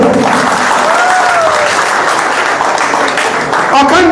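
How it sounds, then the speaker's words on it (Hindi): An audience at a public gathering in India claps continuously for about four seconds, a loud, dense wash of applause with a voice briefly heard near the end. "आप लोग तालियां बजाओ, तालियां बजाओ।"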